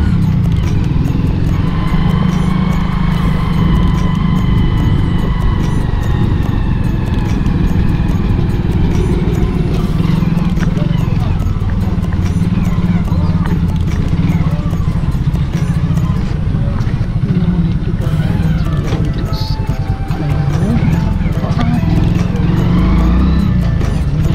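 A motorbike rides along winding village roads in India, its engine droning loudly and continuously with wind rush and shifting road noise throughout.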